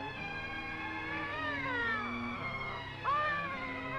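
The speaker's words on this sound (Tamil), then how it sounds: "சம்பந்திமா, குழந்தை அழுவுது." A baby cries in long, wavering wails that rise and fall in pitch, continuous and fairly close.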